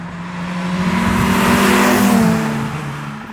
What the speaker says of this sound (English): the exhaust doesn't really sound the greatest.